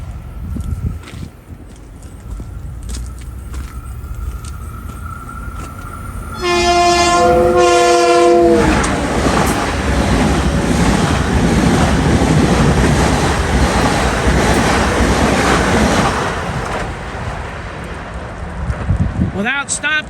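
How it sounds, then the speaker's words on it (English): An LIRR commuter train, number 4955, sounds its horn in a loud multi-note blast as it arrives, then thunders past on the Main Line with a heavy roar of wheels and cars that fades away, and a voice speaks briefly at the end. "here comes train 4955, right on the heels of train 1963"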